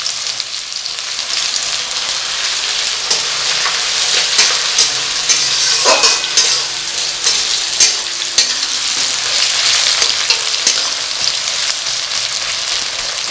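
Chopped onion frying in a pan for chicken tehari gives a loud, dense, continuous sizzle with crackling pops and occasional stirring scrapes, close up and steady throughout, with no voices.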